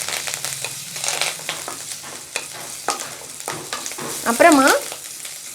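Green chilies and curry leaves fry in a pan with soft crackling and scattered pops, while a voice speaks briefly and a louder spluttering swell comes near the end.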